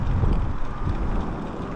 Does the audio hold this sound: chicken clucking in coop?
no